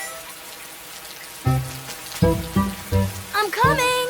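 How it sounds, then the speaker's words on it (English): Rain in a cartoon, with soft steady patter under a series of louder splashy drops and plinks, and a quick sliding cartoon tone near the end. "It's beginning to rain."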